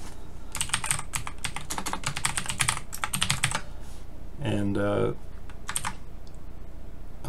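USB keyboard typing on a homemade retro computer built on an ESP32-S3, a fast run of close clacking keystrokes broken by one brief spoken word, then a few scattered taps.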